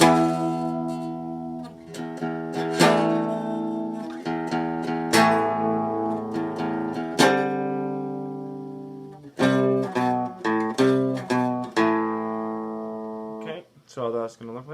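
An electric guitar plays the intro of a song as a series of clean, ringing chords and short phrases with brief pauses, loud and close, with no voice over it.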